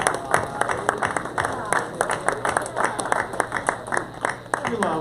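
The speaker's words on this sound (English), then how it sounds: "Let's give them a little round of applause." Audience at a speed networking meetup in an event space gives a modest round of applause for a tequila sponsor, with distinct claps over crowd murmur and some talking.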